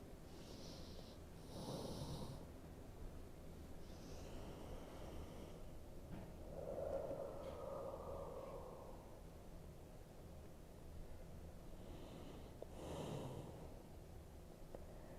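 Slow, deep breaths taken during a gentle yoga stretch. A few long soft airy inhales and exhales are spaced several seconds apart, quiet and close, over a faint background hiss.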